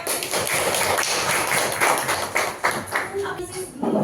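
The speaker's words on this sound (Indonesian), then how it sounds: "Kasih tepuk tangan lagi dong." A short burst of group clapping in a school classroom, a brisk patter of many hands, fairly close, with voices mixed in near the end.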